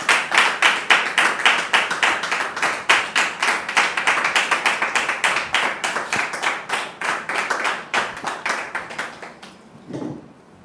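An audience claps steadily as a guest named Dame Fatim is welcomed on a talk show, with dense, even applause lasting about ten seconds before it fades out.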